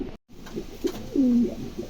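Pigeons at a wholesale pigeon market give soft, throaty coos, a short one near the middle followed by a longer rolling coo, close and clear over faint background noise.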